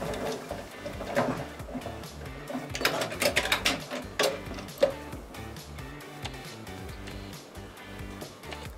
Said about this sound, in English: we'll go ahead and put about 5 stitches into it to see how it looks